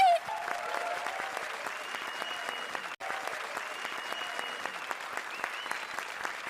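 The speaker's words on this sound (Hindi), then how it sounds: "जोरदार तालियां सलोनी, राजीव और स्मिता के लिए।" A comedy show studio audience breaks into sustained applause for three performers, with dense, steady clapping throughout, a brief dip near the middle and a faint tonal sound underneath.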